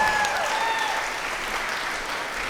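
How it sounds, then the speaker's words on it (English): Wedding guests applauding, a dense burst of clapping from a crowd, loud at first and easing slightly, with faint cheers over it. "let's give a round of applause to everybody that did a toast and performed"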